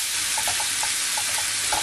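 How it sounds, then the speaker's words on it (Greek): Food frying in oil in a pan over moderate heat gives a steady, close sizzle with small scattered pops and crackles throughout, and no one speaks. "μόλις λιγάκι τηγανιστούν και αρχίζουν και βγάζουν το λαδάκι"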